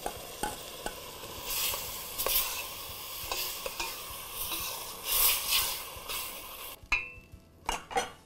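Pureed tomato for rajma masala bubbles and sizzles in a pan at close range under repeated stirring scrapes, and a few light clinks of utensil against pan ring out toward the end. No voices are heard.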